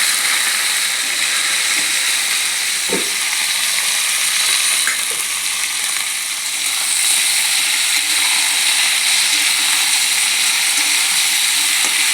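Loud, steady hiss of potato, flat bean, eggplant and lentil dumplings sizzling in hot oil with panch phoron, filling the whole stretch with a few faint clicks and knocks from the pan.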